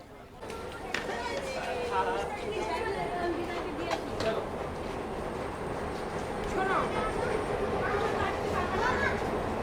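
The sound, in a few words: New Jalpaiguri railway station ambience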